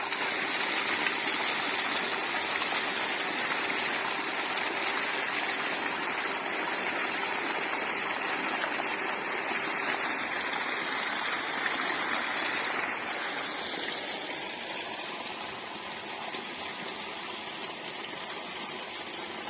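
Water pumped without electricity or a motor pouring steadily out of a pipe beside a well, a constant close rushing splash that runs unbroken and fades slightly toward the end.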